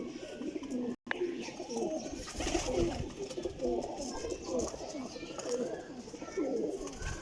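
Racing pigeons coo in a dense, continuous chorus nearby, soft rolling calls overlapping with faint chirps and a brief abrupt dropout early on.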